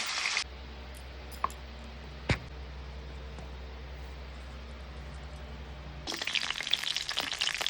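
Steady oil sizzle as catla fish pieces fry, loudest in bursts at the start and end with a quieter, hissy stretch between and a couple of sharp clicks.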